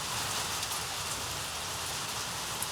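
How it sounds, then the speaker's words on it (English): Rain drums steadily on a tin roof at a hunting club, a dense, even patter with a faint hiss throughout and no voices. "Rain on the tin roof."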